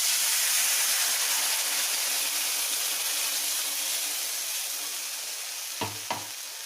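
Wheat halwa batter hitting a hot pan, a loud continuous hiss and sizzle that slowly tapers off, with two short scraping knocks near the end.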